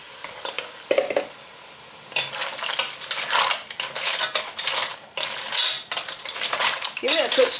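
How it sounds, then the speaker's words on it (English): Mussels tipped into a pan clatter and rattle against the metal in bursts of shell clinking and scraping, followed by stirring and a light sizzle, fairly close and moderately loud. "you just tip all of the mussels in."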